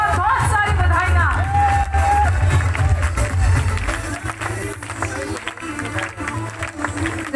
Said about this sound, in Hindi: रामवीर सर के लिए ढेर सारी तालियां और बहुत सारी बधाइयां।